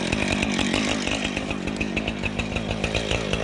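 Chainsaw cutting low through the trunk of a Christmas tree in snow, a loud, steady, close buzzing engine whine with rapid rhythmic chatter throughout, no voices.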